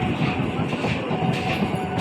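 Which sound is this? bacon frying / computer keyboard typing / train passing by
train passing by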